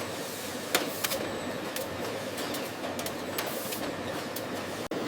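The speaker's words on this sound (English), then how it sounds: "Automated machines package the shrimp paste." An automated shrimp paste packaging machine runs in a factory, giving a steady mechanical drone with a few sharp clicks and ticks over it.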